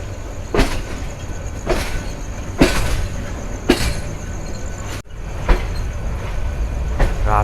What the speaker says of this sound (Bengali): রাত দুইটা বেজে পঁচিশ মিনিট মাদানগর স্টেশন থেকে কুড়িগ্রাম এক্সপ্রেস ছেড়ে দিল